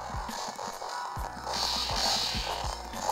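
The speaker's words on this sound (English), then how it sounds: "the punches just don't really sound right" Punch sound effects from a Capcom Play System III arcade game emulated on a PS Vita, a series of short low thumps over busy game audio, slightly uneven in timing.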